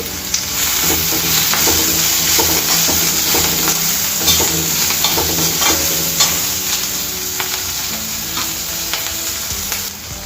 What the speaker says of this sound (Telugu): ఇందులో మనకు రుచికి తగినంత ఉప్పు, అలాగే 1/4 టీ స్పూన్ పసుపు వేసి వేయించుకోవాలి